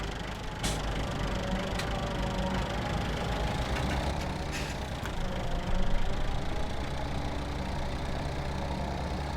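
A tractor engine in a farming survival roleplay video game idles and runs with a steady, continuous low rumble and slight knocking, no talking over it.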